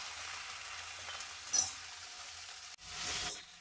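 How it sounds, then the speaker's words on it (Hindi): Poha ingredients frying in hot oil in a pan, a steady soft sizzle with a brief stirring scrape midway and a louder burst of sizzling near the end, no voices. "इसे थोड़ा हम भून ले रहे हैं तेल में"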